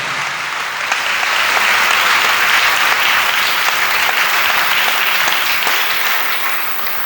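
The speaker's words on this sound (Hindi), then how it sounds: "ज़ोरदार तालियां बजाएं।" A church congregation at a Sunday Advent Mass in a Lahore parish breaks into loud, sustained applause, a dense even wash of many hands clapping for about seven seconds with no speech.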